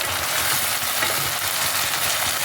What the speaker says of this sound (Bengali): এবার আমি এর মধ্যে অ্যাড করছি আদা, রসুন আর টমেটোর পেস্ট।